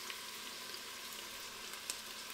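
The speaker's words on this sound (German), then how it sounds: "und röste das jetzt zusammen mit an" Paprika paste and tomato paste roasting together in a hot pan give a steady, even hiss of sizzling, fairly soft and unbroken, with no voices.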